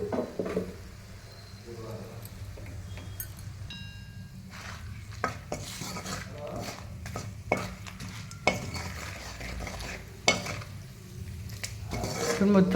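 A spatula scrapes and stirs ingredients around a metal pan on the stove, with a steady soft sizzle of frying food beneath irregular clinks and scrapes of utensil against pan.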